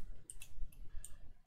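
A few quiet computer mouse clicks from shift-clicking, several short sharp ticks in quick irregular succession over faint low background hum.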